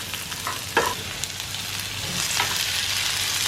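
Ginger, garlic, green chili and Kashmiri chilies fry for Goan fish curry, a close steady sizzle broken by a few stirring scrapes.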